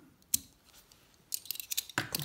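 Small scissors snip at tying material on a fly-tying vise, a quiet close-up click followed a second later by a cluster of short crisp snips.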